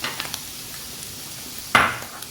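Cubed vegetables and red capsicum are stirred in a cooking pan for white sauce pasta: faint light ticks, then one short, louder scraping swirl of the spoon near the end, with no voices.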